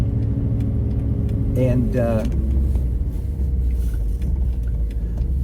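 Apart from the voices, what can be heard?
1971 Mercedes 280SE 3.5 Cabriolet driving on the road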